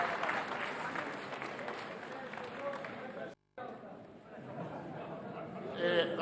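Applause in the Knesset, Israel's parliament chamber: a dense, steady clatter of many hands filling the hall, briefly cut off and then resuming with murmuring voices mixed in.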